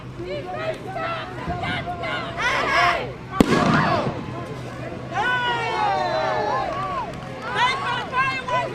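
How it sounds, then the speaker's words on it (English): Fireworks pop and crackle at a distance during a street protest, with a sharp louder burst midway, while a crowd shouts and chatters throughout and whistling streaks rise above the noise. "Thanks for the fireworks. That was really pretty."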